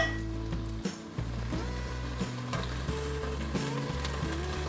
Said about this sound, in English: Let the onions and the tomatoes fry up in there.